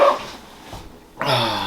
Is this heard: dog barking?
yes